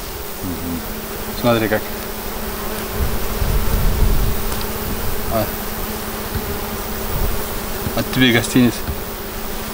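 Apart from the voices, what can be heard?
bees buzzing around hives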